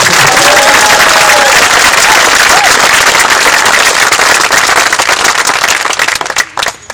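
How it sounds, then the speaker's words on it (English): Loud, sustained applause from a large crowd for Congressman John Lewis, steady and dense throughout, thinning out briefly near the end. "And John, you guys can applaud him as long as you want."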